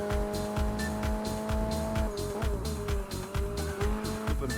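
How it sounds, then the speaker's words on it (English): Car in a street racing sim video game taking a hairpin with a clutch kick and oversteer: a loud, revving engine held high, with tire squeal running throughout and no talking. "a clutch kick and keeping the revs up with some oversteer"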